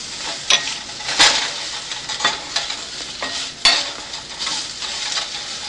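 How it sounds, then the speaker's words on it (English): Ground coriander, turmeric and red chili powder sizzle in a pan, with sharp scraping stirs and utensil clinks breaking through a steady close frying hiss. "again cover it and let the spices cook for about 1 to 2 minutes"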